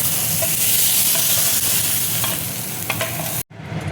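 Eggs frying in a pan, a dense loud sizzle with a few spatula scrapes, then a sudden brief cut to near silence before a softer sizzle resumes.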